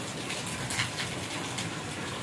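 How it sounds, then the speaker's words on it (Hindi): Heavy, cold rain falls steadily in a village, a dense continuous wash of hiss and patter close by, with no voices over it. "बारिश तो काफ़ी तेज हो गई है।"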